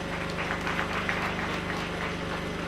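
An audience at a reunion of former pupils of CEG Hlassame claps steadily, a continuous, even patter of many hands at a moderate distance with no voices over it.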